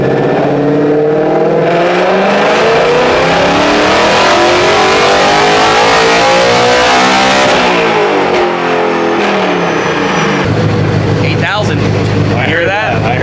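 A Ford Mustang S650 running on E85 revs up hard toward 8,000 RPM, a loud close engine roar climbing in pitch then dropping back and settling into a rough idle, with voices talking over it.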